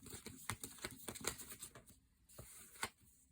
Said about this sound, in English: Let me give these a really good shuffle, please.